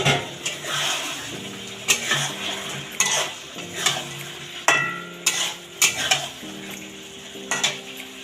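Eggs stirred into frying masala sizzle continuously, while a utensil scrapes and knocks against the pan in frequent, fairly regular clacks.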